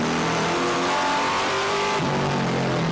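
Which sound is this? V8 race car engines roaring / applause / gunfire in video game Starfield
V8 race car engines roaring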